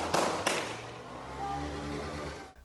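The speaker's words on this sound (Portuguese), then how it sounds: "Tiros disparados pelos criminosos cortavam o céu." Gunshots fired by criminals in a favela: two sharp cracks close together at the start, followed by a lingering low rumble and hum of background noise that cuts off at the end.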